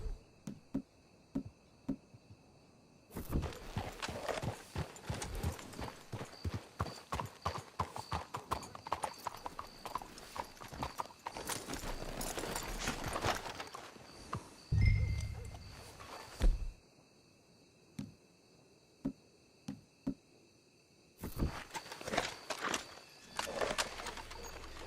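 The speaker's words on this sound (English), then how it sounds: "Let's hitch the horses up ahead." Horse hooves clip-clopping in the video game Red Dead Redemption 2, a busy run of hoofbeats that thins to scattered steps, with a snort and brief quiet gaps between bursts.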